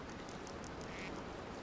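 Ducks quack in quick repeated bursts over a constant low hiss of background noise, with no one speaking, in the hunting video game Way of the Hunter.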